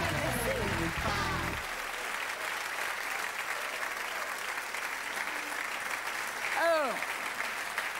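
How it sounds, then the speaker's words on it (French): A studio audience on the French TV game show Facile à chanter claps in sustained, dense applause that fills the whole stretch, while a host talks over it. "on applaudit fort"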